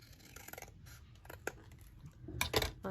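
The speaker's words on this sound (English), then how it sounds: "And just cut across the top here." Scissors cut across the tops of small chunky paper tags for a junk journal, a string of faint crisp snips and paper rustles, close by, with a louder cluster near the end.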